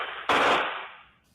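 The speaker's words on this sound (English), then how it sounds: "A barrage of gunfire at Reveille Park late Thursday night was preceded by arguing" Burst of gunfire in a park at night, picked up by an outdoor surveillance camera: a loud, dense rapid volley that cuts in abruptly, holds briefly, then fades away.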